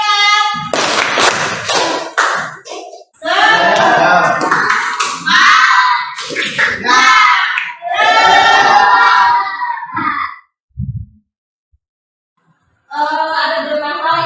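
A school class performs a rhythmic spirit clap, bursts of patterned clapping mixed with children chanting in unison, pausing briefly before a final round of clapping and chanting.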